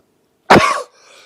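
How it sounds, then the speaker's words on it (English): A single close, sharp cough bursts out of near silence and trails off into a faint breathy tail. "I am sorry for the coughing, that was rude."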